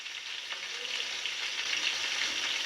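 Potatoes fry in a pan on a gas stove turned low, giving a steady, even sizzle that stays close and constant for a couple of seconds with no voices over it.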